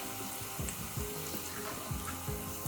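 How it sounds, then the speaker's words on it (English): Green chilies with cumin and turmeric frying in a pan, a faint, steady sizzle with light crackling and soft stirring scrapes, no voices. "Just add the chilies and fry this for a second."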